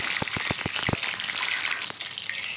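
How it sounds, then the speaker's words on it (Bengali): Four eggs dropped one by one into hot mustard oil in a wok, giving sharp spattering crackles in quick succession that settle into a steady, close sizzle with no talking. "এক এক করে আমি চারিটা ডিম দিয়ে দেব কড়াইয়ের ভিতরে"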